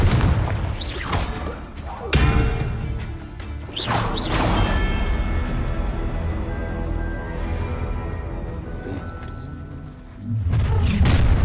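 Confringo blast curse spells exploding in Hogwarts Legacy gameplay, several loud booming bursts with whooshing sweeps amid layered battle effects and music, a few distinct blasts spread across the stretch.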